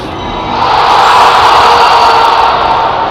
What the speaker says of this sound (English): You guys hear that cheering in the background?